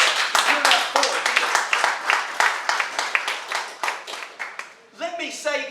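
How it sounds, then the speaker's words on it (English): Dense applause and clapping from a county meeting audience in Clarksville, Montgomery County, Tennessee, sustained for several seconds before tapering off, with a voice rising out of it near the end. "let me hear you a round of applause"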